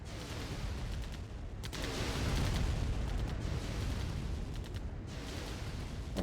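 Gunfire and explosions in the Command & Conquer Remastered strategy game crackle as a dense, continuous wash of distant battle, with sharper bursts breaking through a steady roar.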